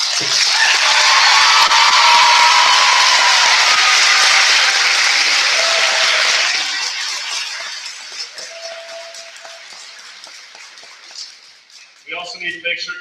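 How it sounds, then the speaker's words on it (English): Audience at a school awards assembly applauding loudly for several seconds, the clapping fading out into scattered claps and a few voices in the room. "Let's give them a round of applause."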